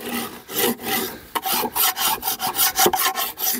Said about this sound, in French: Je gratte bien l'intérieur, l'excédent de propolis.